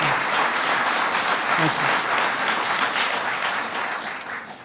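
Crowd at a governor's bill-signing event for New York's DNA databank law applauding the sponsors, a strong, continuous burst of clapping that gradually fades, with a brief spoken thanks over it.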